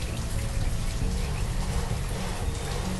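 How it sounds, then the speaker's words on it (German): Continuous rain hisses loud and steady over a settlement in the city-building video game Banished, with no breaks across the whole stretch. "Es regnet."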